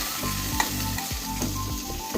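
Potatoes frying in a home kitchen pan, a steady close sizzle with soft scraping stirs repeating every half second or so, no voices.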